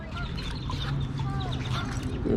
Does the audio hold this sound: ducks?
yes